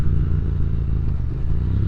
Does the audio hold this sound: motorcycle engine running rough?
yes